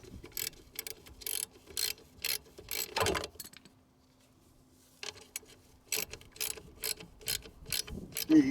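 Ratchet wrench snugging bolts on a replacement 3-inch RV waste dump valve: two series of rapid, sharp clicks close up, separated by a brief silent pause and a thunk.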